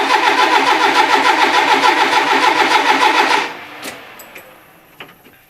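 A 1982 Renault Trafic van tuned for E85 ethanol fuel cranks loudly and steadily with a pulsing starter rhythm for about three and a half seconds, then cuts off into quiet with a few faint clicks.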